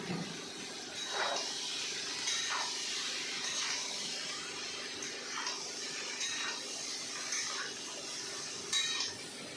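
Boiled jackfruit being stirred in a pan for a vegetarian curry, giving a steady sizzling hiss with soft scraping and clinks from the spoon moving through it, fairly close with no talking.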